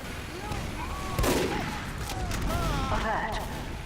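Sniper rifle gunfire in a competitive team shooter match, a couple of sharp cracks amid other gunfire and a voice speaking over the action.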